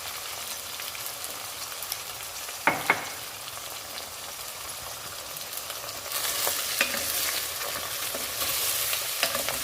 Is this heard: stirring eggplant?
yes